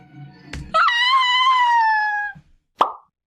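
A short high-pitched cartoonish whine, like a small dog yelping, sustained for over a second between a couple of soft pops and a sharp knock.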